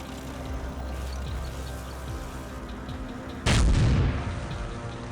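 Roadside bomb explosion in a guerrilla ambush: a sudden loud, deep blast bursts over a steady rumbling background and then slowly fades.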